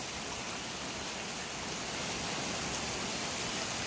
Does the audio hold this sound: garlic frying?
no